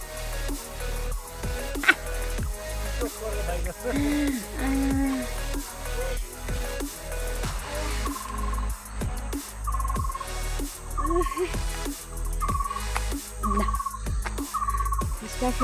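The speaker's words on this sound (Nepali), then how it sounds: "त्यो चराहरू पनि कराइराखेको आवाज आइरहेको छ।" Birds call repeatedly near a star fruit tree, a series of fowl-like, gobbling cries at a steady rhythm that grow more regular and prominent in the second half over a dense outdoor background.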